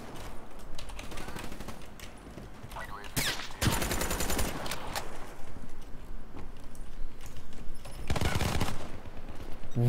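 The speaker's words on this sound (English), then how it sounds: "did you hear that guy shoot that weapon?" Bursts of gunfire in Black Ops 3 multiplayer, with loud volleys around four and eight seconds over steady game noise and scattered smaller shots.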